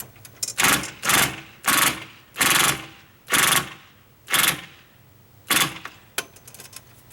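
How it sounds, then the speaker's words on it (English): A power drill drives screws into the edge of a 2x4 to mount a heavy-duty flagpole bracket on a stucco wall, heard as about seven loud, close whirring bursts of one to two seconds, separated by short pauses. "I'm getting all 4 screws in the edge of the 2x4"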